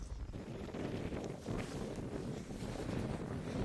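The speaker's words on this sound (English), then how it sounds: "Oh, the wind is blowing from the southeast, you guys." Cold wind gusts roughly at a farm barn in winter, buffeting the microphone in a steady, loud, rumbling roar that swells and dips without a break, with no voices.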